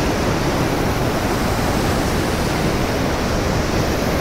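Water rushes steadily at the Kundmala river spot near Talegaon, a loud, continuous broadband roar like a weir or small waterfall with no pauses and no voices.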